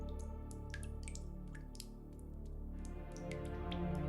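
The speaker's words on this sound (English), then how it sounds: "Water is dripping." Water dripping somewhere indoors, a steady series of small, sharp drops falling one after another, quiet and close, with a faint hum underneath and no talking.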